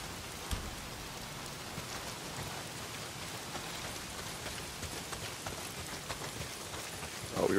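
Heavy rain pours down in the video game Days Gone, a dense steady hiss of drops on surfaces with no talk, then a brief louder burst near the end.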